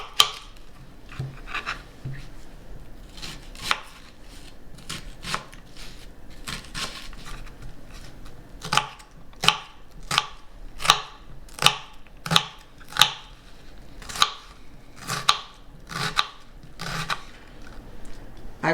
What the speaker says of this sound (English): Now I'm going to chop up the onion.